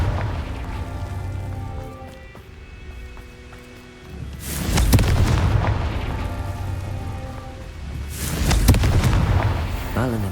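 Two booming blasts from a Confringo blasting curse in the Hogwarts Legacy video game, each a loud, broad rumbling burst a few seconds apart over a steady low game background.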